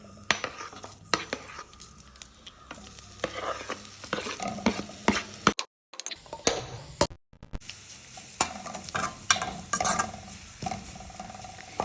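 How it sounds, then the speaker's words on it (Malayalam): Grated coconut, curry leaves and cardamom roast in hot coconut oil, a steady sizzle broken by repeated scraping and clinking of a spoon stirring in the pan, with a brief silent gap midway. "ഇനി ഇത് നന്നായിട്ട് വെളിച്ചെണ്ണ ചൂടാക്കി വറുത്തെടുക്കാം."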